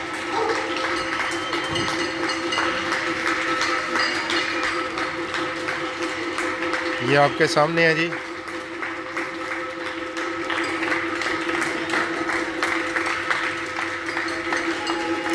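Residents on their apartment buildings in Barcelona clap steadily to honor doctors, a broad wash of applause from all around, with a brief close tone burst midway and someone speaking briefly.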